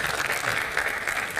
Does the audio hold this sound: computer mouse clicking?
no